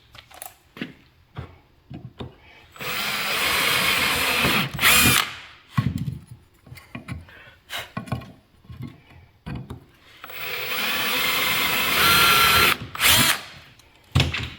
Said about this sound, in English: Get some new drill bits.